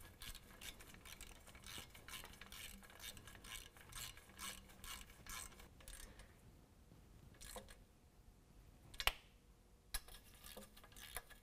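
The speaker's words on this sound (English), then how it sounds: "we're going to reinstall our 2 nuts, and we're going to go ahead and tighten those down" A ratchet clicks rapidly and close while 13 mm nuts are tightened on an aFe Large Bore-HD exhaust, one run of fine ratcheting followed after a pause by a few sharper clicks.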